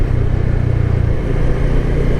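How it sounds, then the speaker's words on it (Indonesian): Loud, steady low engine drone of a Honda CB150X motorcycle on the move, close by with a rumbling throb and rushing wind; no one talks. "sekarang kita cobain nih motornya"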